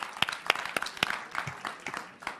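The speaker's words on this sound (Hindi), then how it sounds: "तालियां बजाइए भाई दोनों के लिए" Studio audience at a Hindi television debate show clapping for two debate guests, a short burst of scattered, uneven claps with a few louder slaps, fairly close and not very dense.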